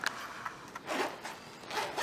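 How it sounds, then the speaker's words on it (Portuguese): A zipper on a piece of sewing fabric is pulled open in short rasping bursts, close and fairly quiet, with no talking. "Eu vou abrir aqui o zíper."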